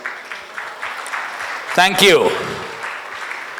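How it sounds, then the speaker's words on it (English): A conference audience applauds a speaker called to the stage at a trade conclave, a steady broadband patter of clapping filling the hall while a voice speaks briefly near the middle. "Can I have her on stage with a big round of applause, please?"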